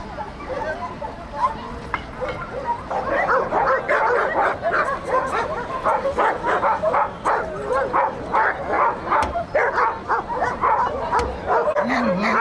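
Russian hunting laikas give excited, rapid barks and yips, with some whimpering, that build into a dense, repeated chorus. The dogs sound close, and a faint background murmur runs under them.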